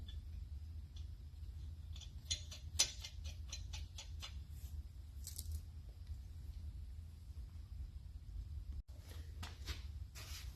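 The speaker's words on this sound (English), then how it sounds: "I use a speed wrench to run them all down" A speed wrench runs down nuts on a Honda N600 engine in a run of faint, rapid ticks and ratchet clicks, with a second short burst of clicking near the end over a low, quiet hum.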